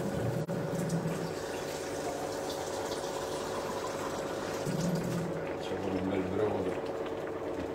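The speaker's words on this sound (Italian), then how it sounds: "quindi aggiungo un po' d'acqua" Water poured into a pot of Italian fish soup, a steady bubbling, liquid rush running the whole time at moderate level, with a voice talking over it.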